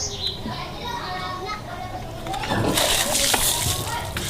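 Water is thrown from a bucket onto a sleeping man, a sudden close splash and slosh rising over the second half, with people talking in the background.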